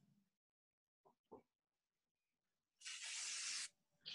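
A face mist spray bursts out in one sustained hissing spritz lasting under a second, preceded by faint handling clicks and followed by the start of a second spray.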